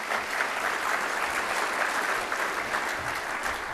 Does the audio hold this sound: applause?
yes